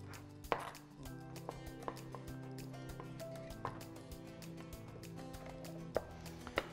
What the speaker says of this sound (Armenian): փորձեք ինչքան հնարավոր է մանր կտրատել։